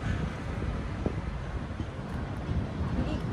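A strong wind gusts along the Manila Bay shoreline, a steady, loud rumble buffeting the microphone across the whole clip, with faint voices partly under it.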